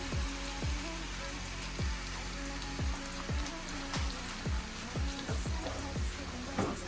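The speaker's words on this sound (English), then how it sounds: "So I'm washing my hands." Hands are rinsed under a running kitchen tap while spinach artichoke dip is being made, a steady rush of water broken by a string of quick splashy drips, close by and with no talking.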